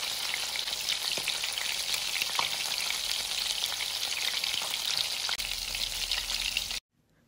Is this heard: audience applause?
no